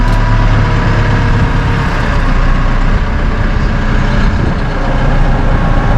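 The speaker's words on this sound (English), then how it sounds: "what we got to do is we got to drive this straight back into that other tractor, or into the implement" A compact utility tractor's diesel engine runs loud and close as it backs straight toward an implement, a dense continuous rumble with a steady low throb and no pauses.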